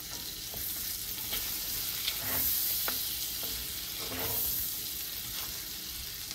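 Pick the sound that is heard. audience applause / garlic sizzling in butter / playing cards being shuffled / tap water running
garlic sizzling in butter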